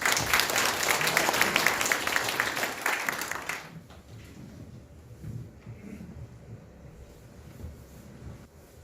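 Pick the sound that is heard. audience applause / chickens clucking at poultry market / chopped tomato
audience applause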